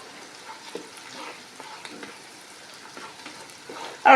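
Egusi soup ingredients such as ginger and iru sizzle quietly in a frying pot while a spoon stirs them in soft, irregular scrapes and clinks, faint and steady throughout.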